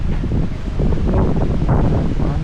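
Strong wind roars and buffets the microphone in a constant, rumbling rush with no pauses.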